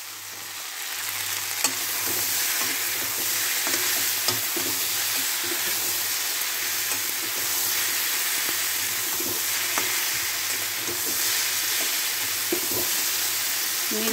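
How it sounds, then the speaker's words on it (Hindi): Vegetables fry for sambar with a steady loud sizzle while a utensil scrapes and stirs intermittently through the pan. "मेरी सब्जी भुन गई है"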